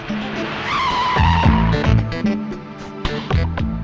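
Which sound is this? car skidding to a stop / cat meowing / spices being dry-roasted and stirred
car skidding to a stop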